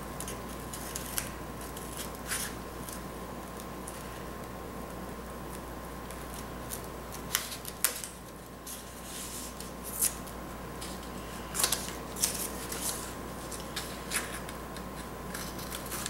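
Scissors trimming the excess paper from a handmade wedding card, a soft steady run of close snips and rustling paper with sharper cuts now and then, no voices.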